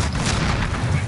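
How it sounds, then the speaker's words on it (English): An explosive charge detonates in Rainbow Six Siege with a loud, dense boom that fills the whole second with rumbling blast noise. "Planting explosive. Send charge."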